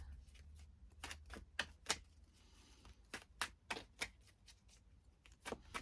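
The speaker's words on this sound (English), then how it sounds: "I really feel like the cards need a good shuffle for this one." A deck of cards being shuffled, a series of quick, crisp riffling bursts in irregular rhythm, close and fairly quiet, with brief pauses between shuffles.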